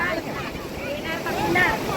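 A big ocean wave rolls in at Tarkarli beach, a steady broad rush of surf and wind noise with people's voices calling out over it, swelling slightly louder toward the end.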